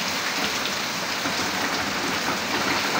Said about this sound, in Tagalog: Ito umuulan na lang.